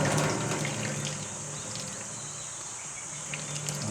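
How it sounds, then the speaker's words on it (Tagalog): Strong water flowing steadily at a riverside campsite, a broad continuous rush with faint insect-like chirps above it, no voices. "Pero malakas yung tubig dito."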